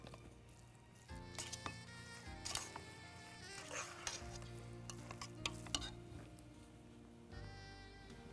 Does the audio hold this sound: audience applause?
no